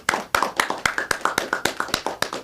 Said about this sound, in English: perhaps we can get a louder round of applause from our small indoor audience here